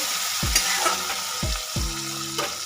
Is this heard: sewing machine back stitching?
no